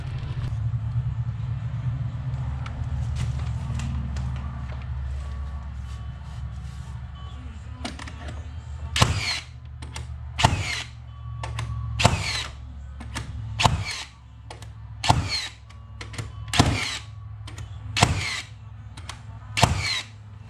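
Hitachi nail gun driving fasteners into structural framing during rot repair, starting with a steady hum and then a run of about eight sharp, loud pneumatic bangs at roughly 1.5-second intervals.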